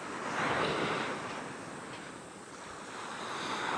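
Surf washes steadily onto Clifton Beach in the wet season with the tide far out, a broad continuous rush of breaking waves mixed with wind buffeting the microphone and no voices.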